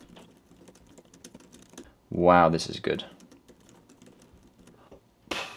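Quick clicking keystrokes on an iPad Pro keyboard patter steadily and close by, pausing briefly while a voice speaks over a louder stretch partway through.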